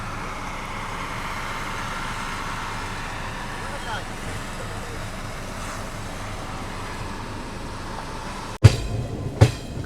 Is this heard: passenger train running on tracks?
yes